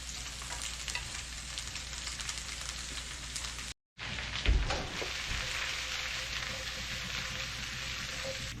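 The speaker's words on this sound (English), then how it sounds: "Get those mushrooms in because they gotta take longer to cook than the rest of the stuff." Onions and mushrooms fry in a pan at a fishing-trip campsite, a steady close sizzle and crackle running throughout, broken by one brief cut and a single clunk of stirring partway through.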